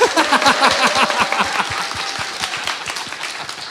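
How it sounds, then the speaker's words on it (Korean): Studio audience clapping for reporter Kang on a Korean political talk show, a dense burst of claps that starts loud and tapers slightly over a few seconds. "강 기자한테 박수 한번 보내주세요."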